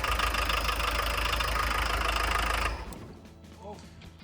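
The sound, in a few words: VW T25 Westfalia engine starting and idling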